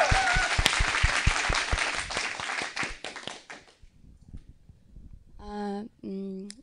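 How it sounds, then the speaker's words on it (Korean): A talk-show studio audience bursts into dense, loud applause that thins out and fades after a few seconds, followed by a brief pause and someone speaking. "박수 한번 좀 부탁드리겠습니다."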